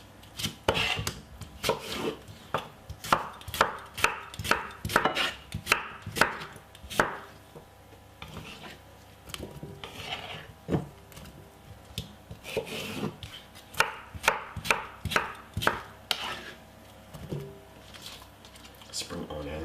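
Knife chopping cucumber on a cutting board for a simple salad with apple and mixed leaves, a run of quick, crisp, irregular near strokes with short pauses between bursts.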